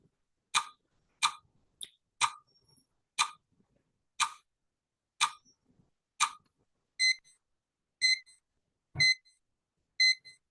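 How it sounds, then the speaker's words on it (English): A countdown timer alarm goes off during an online meeting, sounding about a dozen sharp electronic beeps at a steady pace of roughly one per second, loud and close, with the later beeps taking on a brighter, doubled tone; no talking. "My timer is over."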